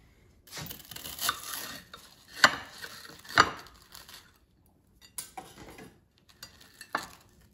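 A knife slices through an air-fried peanut butter and jelly sandwich with a crispy browned crust, giving several short crunchy cuts and scrapes in uneven bursts, close and fairly quiet with pauses between strokes.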